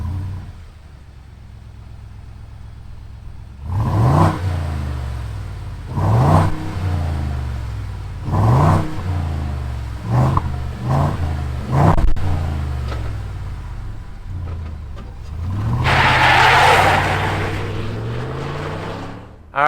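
A 2020 Ford F-250 Super Duty pickup's 7.3L V8 cranks and roars to life, then revs repeatedly in loud surging bursts, with a final long rev near the end.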